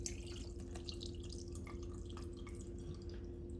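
Dandelion leaf tincture trickles and drips as it pours from a jar, a faint, uneven patter of droplets over a low steady hum.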